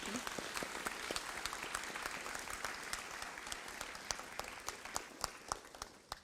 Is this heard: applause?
yes